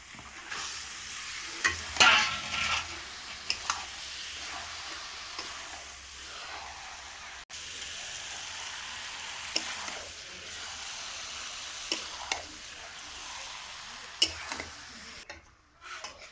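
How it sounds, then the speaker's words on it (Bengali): Chicken pieces cooking with chaat masala and meat masala in a pan, with a soft steady sizzle of frying and intermittent scraping strokes as the spiced meat is stirred, close and moderately quiet, no voices. "এইভাবে ভালো করে কষাবো যতক্ষণ না তেল ছাড়ছে।"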